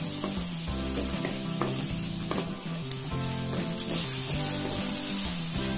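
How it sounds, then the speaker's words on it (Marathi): Chopped tomato sautéing with onion in a pan for veg Kolhapuri, a continuous close sizzle with occasional stirring, under steady background music. "टोमॅटो घालायचा आहे, आपण परतून घ्यायचा।"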